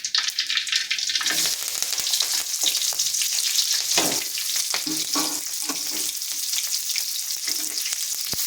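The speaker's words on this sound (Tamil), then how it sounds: "வானலில் எண்ணெய் ஊற்றி வச்சுருக்கேன் இப்போ கடுகு போட்டுக்கலாம் நல்லா கடுகு பொரியட்டும்" Mustard seeds sputtering in hot oil in a pan for a broad bean stir-fry, a loud continuous sizzle with sharp popping crackles and occasional stirring scrapes, no talking.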